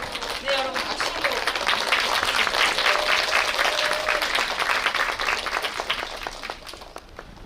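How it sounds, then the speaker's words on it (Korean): A theater audience at a film screening applauds together in dense, sustained clapping that fades slightly toward the end. A voice briefly speaks over it near the start. "여러분 박수로"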